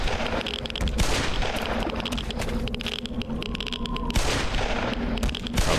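Bursts of gunfire in the Black Mesa shooter, loud rapid shots and short volleys cracking close over several seconds, with no talk.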